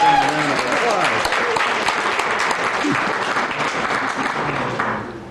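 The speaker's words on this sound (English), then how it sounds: "I want to give them a round of applause." Sustained applause from an audience at a Climate Action Santa Monica water forum on water and climate change, a dense steady wash of clapping with some voices mixed in, tapering slightly at the end.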